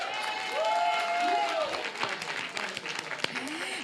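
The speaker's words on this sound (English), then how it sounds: "Let's give her a round of applause." Audience applause at a medical talk on sarcoidosis, moderate clapping with some scattered voices over it, tapering off toward the end.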